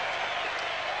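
At a 1978 Australia versus England Test cricket match, a large crowd applauds a boundary four by Kim Hughes, making a steady wash of clapping with no break.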